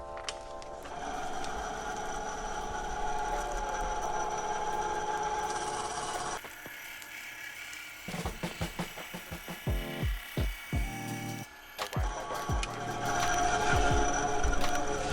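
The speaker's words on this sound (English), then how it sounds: "So I'm going to take another little cut with the saw over here." A saw cuts an appendix inside-the-waistband holster wedge with a run of quick, rhythmic rasping strokes, framed before and after by a steady whirring machine noise in a quiet workshop.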